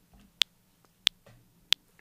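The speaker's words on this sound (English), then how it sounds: "this time I'm going to use the metronome sound" Metronome click sampled from a Drumbrute Impact analog drum machine: three sharp, short ticks evenly spaced about two-thirds of a second apart, faint against a quiet background.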